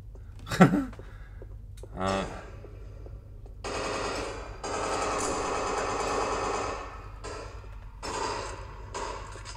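Gunfire in the Oculus Go shooter Firezone, played against bots. A sharp shot comes early, then longer bursts of rapid automatic fire follow, moderately loud and in several separate stretches.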